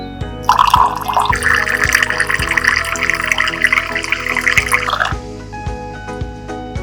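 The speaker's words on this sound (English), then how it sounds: "When using the coffee, tea or hot water for the first time, make sure to dispense normal water first." An RO water purification dispenser releases a rushing stream of water for a few seconds, then it stops. Faint drips and regular soft clicks sound underneath.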